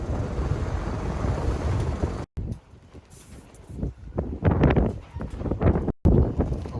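Strong wind gusts outdoors buffet the microphone with a loud, broad roar, easing for a moment and then surging again in rough bursts.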